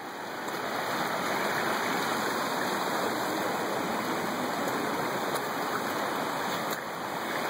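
Swollen stream rushing after heavy rain, a loud, steady broadband roar of flowing water close by, continuous and unbroken throughout.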